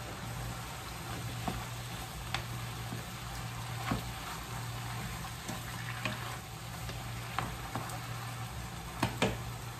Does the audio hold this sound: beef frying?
yes